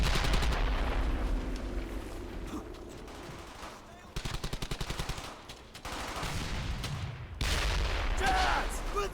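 Gunfire in the World War II shooter Brothers in Arms Hell's Highway, with loud sustained rifle and machine-gun bursts, a rapid rattling volley in the middle and heavy booming shots, while a voice briefly calls out over the battle.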